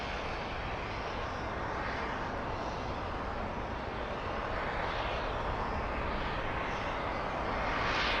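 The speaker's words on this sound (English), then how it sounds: "We're going to see that big 747 slow down on the north runway." A Boeing 747 decelerates on the north runway at LAX, a loud sustained roar of jet engines in reverse thrust that holds steady and swells slightly toward the end, with no talking.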